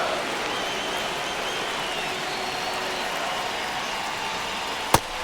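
Baseball stadium crowd in a PS5 MLB game, Giants versus Cubs in a tense ninth inning: a steady, distant crowd murmur and roar, broken near the end by one sharp crack.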